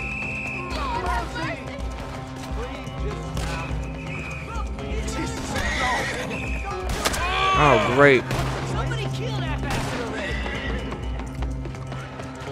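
A horse whinnies and gallops with rapid hoofbeats in the Red Dead Redemption 2 video game, mixed with gunfire and crashing effects while a person talks over the action.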